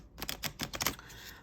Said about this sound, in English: It just shuffles super easy, super nice.